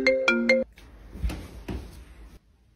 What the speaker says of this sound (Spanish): Contéstame ese teléfono y ponelo en altavoz.